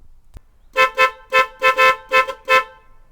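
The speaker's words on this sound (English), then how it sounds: "that's what the horn sounds like in a Volvo from the 90s" A 1990s Volvo 940 Turbo's horn honks in a series of short, loud blasts, about seven toots in quick irregular rhythm after a faint click, close and alone.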